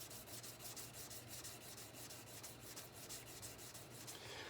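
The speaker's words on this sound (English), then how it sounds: "Back to the polishing here." A rubber polishing tool works the frets of an American Telecaster Custom Shop guitar, giving a steady, continuous rubbing and scrubbing with a quick repeating back-and-forth rhythm, close up and alone without voices.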